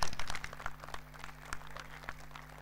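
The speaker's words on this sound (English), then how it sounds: "Let's give a big round of applause to them" Scattered audience applause at a reunion celebration, a cluster of quick distinct claps from a modest crowd that starts strong then thins to sparse claps over a steady hum.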